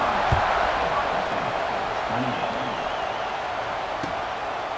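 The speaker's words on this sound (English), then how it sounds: "this crowd is buzzing after that last score" Stadium crowd at an Ohio State versus Tennessee college football game, a broad steady roar and murmur filling the space, with a few faint thuds and a commentator's voice over it.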